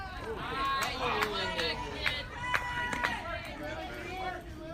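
A softball crowd at a Navy versus Cardinals game reacts to a hit with a swell of mixed shouts and murmurs, moderately distant, with overlapping voices throughout.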